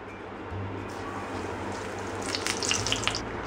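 Eggplant fritters (beguni) fry in hot oil with a steady bubbling hiss, and a few light clinks and crackles come through near the end.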